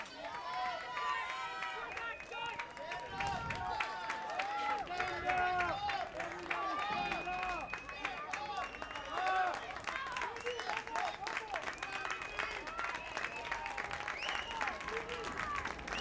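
Home crowd at a high school boys soccer game claps and cheers steadily throughout, a dense busy wash of applause with crowd noise and scattered voices mixed in.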